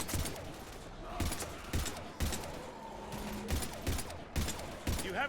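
Gunfire in the video game Mass Effect 3 cracks in repeated sharp shots at a steady rhythm over a continuous bed of in-game noise and music.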